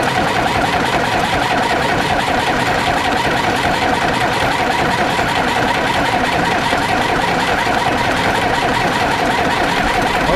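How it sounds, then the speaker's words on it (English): Starter cranking a Farmall 350 diesel tractor engine that has sat for years, a loud, steady, fast-chugging whir held without a break, close up. "we'll just keep cranking intermittently until we get pressure to our injectors"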